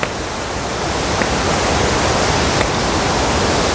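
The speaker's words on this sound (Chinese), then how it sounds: "下面是处女瀑布，" Virgin Falls in the Manyueyuan forest, a steady broadband roar of falling water, loud and close, continuous without pause.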